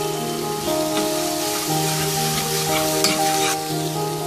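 Ginger garlic paste frying in oil in a pan for a halwa puri and chana dish, a loud, continuous close-up sizzle with crackling bursts and no voices.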